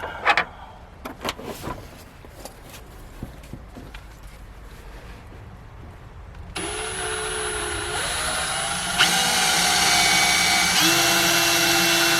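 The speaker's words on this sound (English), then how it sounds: "I'm going to drill those holes through" A power drill bores holes through a car's firewall: quiet handling clicks and shuffling first, then the drill motor whines loudly and steadily, pitch stepping up as it spins faster through the metal.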